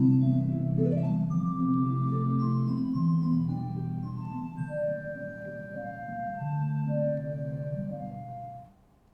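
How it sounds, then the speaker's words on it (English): Ocarina playing the Song of Time from the video game The Legend of Zelda: Majora's Mask, a slow clear melody of sustained tones over a soft low accompaniment, with no talk. "In The Legend of Zelda: Majora's Mask, Zelda gives Link a magical ocarina capable of manipulating time, and she teaches him the Song of Time"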